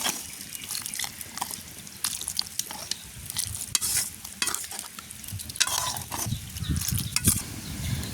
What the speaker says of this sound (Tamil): இனி அதோட தூளையும் சேர்த்து கொள்ளுவோம் அப்படியே நல்லபடியாக பிரட்டி விடுவோம்